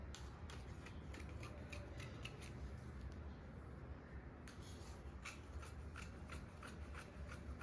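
Scissors cut through blouse fabric in a steady series of faint, rhythmic snips and blade scrapes, close by over a low background hum, with a brief pause midway.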